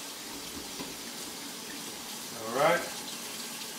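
Kitchen tap water runs softly in a sink to rinse onions, a faint steady flow that swells briefly louder near the end, with a short spoken word over it.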